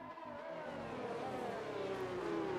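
An F1 2019 race car in the video game, a McLaren, holds a smooth, sustained engine whine that rises in pitch as it accelerates through the Degner corners, heard alone at moderate level.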